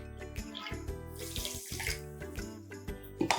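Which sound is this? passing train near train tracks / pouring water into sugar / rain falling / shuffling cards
pouring water into sugar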